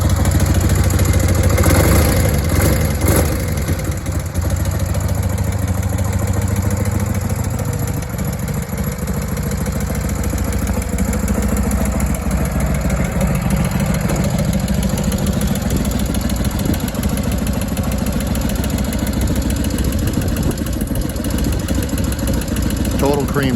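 A 1979 Harley FXS Lowrider with original paint idles close by, a loud steady rumbling engine running throughout with a clattery mechanical edge and faint talk under it.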